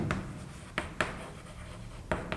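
Chalk or a marker scratches across a classroom board in short strokes with a few sharper taps, close by and moderately loud, with no talking over it.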